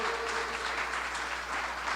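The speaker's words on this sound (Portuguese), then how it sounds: "Você pode aplaudir a Jesus, honrar a Deus." Congregation in a church applauds to honour Jesus, a sustained even wash of many hands clapping together, with a faint voice briefly near the start.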